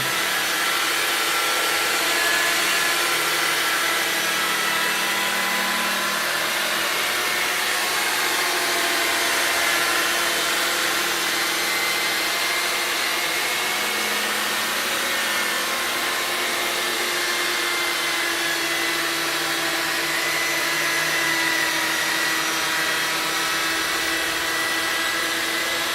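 A buffer polishes car paint at high RPM, a steady loud whirring roar with a broad hiss that holds unbroken and alone for the whole stretch.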